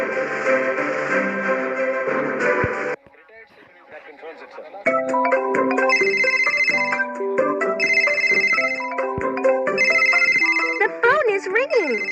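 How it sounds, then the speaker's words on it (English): A cartoon telephone rings at a fire station with bright, repeated electronic ringtone bursts in a steady pattern, interrupted by a short quieter gap, loud and close. "The phone is ringing."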